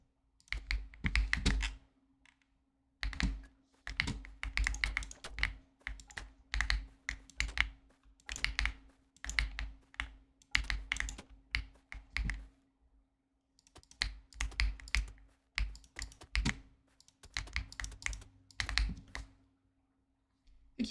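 Clicky computer keyboard being typed on in irregular bursts of quick, crisp key clicks and thocks separated by short pauses, close and fairly quiet with no speech.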